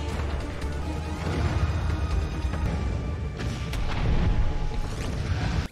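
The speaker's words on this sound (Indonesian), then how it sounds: "Ledakan kembali terjadi." Explosions rumble in a film action scene, heavy low booms and crashing debris swelling and rolling on at high volume for several seconds, with no dialogue.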